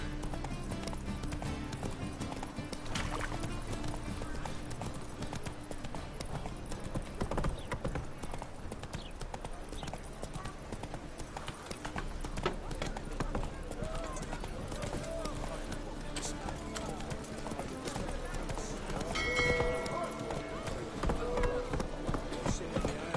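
Geralt's horse Roach galloping in The Witcher 3, steady rhythmic clip-clop of hooves running throughout, with people talking over it at times.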